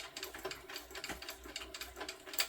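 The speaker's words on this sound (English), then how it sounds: "I am going to back stitch again as I go over each of the card slots" A sewing machine back stitches over the card slots of a sling crossbody bag, giving quick, rhythmic needle chatter in short bursts with brief pauses, close and moderately quiet.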